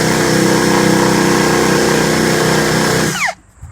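A power drill whirs steadily while cleaning rust off the thin steel bonnet of a Honda S600, running loud and continuous before spinning down and stopping near the end.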